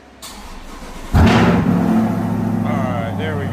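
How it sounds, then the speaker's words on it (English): A Corvette engine cranks and fires up after a jump start from a dead battery, a sharp catch followed by a loud steady idle, with a person speaking nearby. "and then we can start the vehicle."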